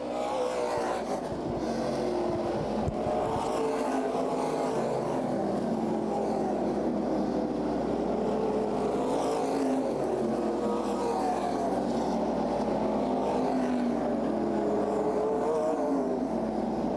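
Super late model race cars run wheel to wheel at Berlin Raceway during a CRA Super Series night race, their engines a continuous roar that rises and falls as the pack circles.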